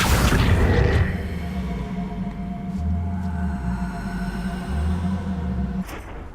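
An Accio spell is cast in Hogwarts Legacy, opening with a loud low boom and rush that fades into a humming magical drone with a deep pulsing undertone, alone with no talk.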